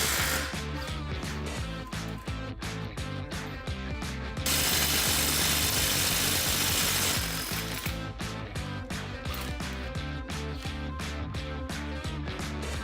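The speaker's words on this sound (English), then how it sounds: "Remove the top 2 radius arm bolts, located here and here." Mechanical ratcheting as tools work radius arm bolts loose on a Can-Am Maverick UTV, steady rapid clicking throughout with a denser whirring stretch in the middle.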